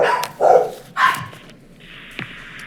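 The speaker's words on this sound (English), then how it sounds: "Oh, those are the dogs." Several close, loud dog barks come in quick succession, followed by a quieter stretch and one short final yelp.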